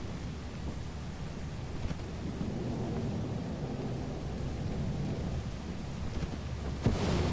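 Rain and thunder in the game Lethal Company: a steady downpour hisses without a break, with low rumbles rolling beneath and a sharper crack near the end, with no talk.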